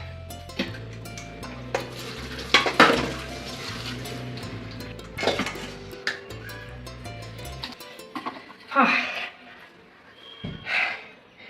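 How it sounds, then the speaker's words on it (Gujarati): Dishes, pots and utensils being washed and scrubbed: light clinks and metallic clatter come through under steady background music, then a few louder, separate clanks stand alone near the end. "વાસણ ઉટકાઈ ગયા."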